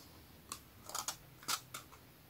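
Scissors cut paper for a December daily scrapbook project with a few crisp, separate snips that come close and fairly soft over a quiet background, and no one speaks.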